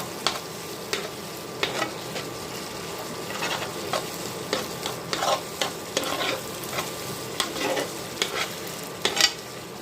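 Mashed tomato frying in hot oil is stirred in a pan, with a steady close sizzle broken by repeated scraping strokes of the spoon.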